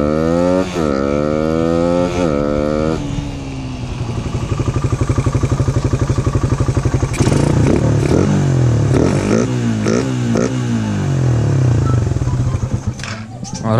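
Motorcycle engine idling steadily after a jetting and carburetor tuning job, a close, loud continuous putter with a few brief revs early on and some clatter near the end.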